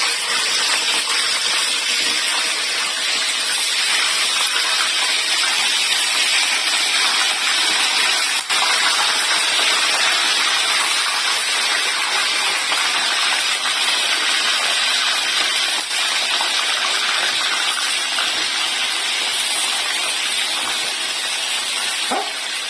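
Andhra-style stuffed brinjals (gutti vankaya) fry in oil, giving a loud, even, continuous hiss that holds steady throughout with no talking.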